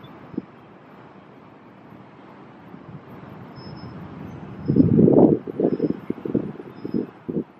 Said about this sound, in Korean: 소나무가 흔들리는 정도의 바람이 불고 있어요.